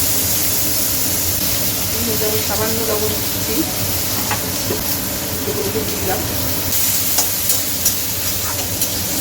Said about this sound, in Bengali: আলুগুলো ভেজে দিচ্ছি।